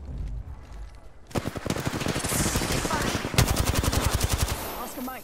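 Rapid automatic gunfire from the Apex Legends video game, loud bursts of repeated shots after a quieter opening second, continuing steadily to the end.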